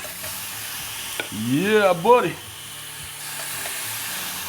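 Steady sizzling hiss of shrimp skewers on a hot Ninja Foodi XL electric grill runs throughout, briefly overlaid by a short exclamation from a voice.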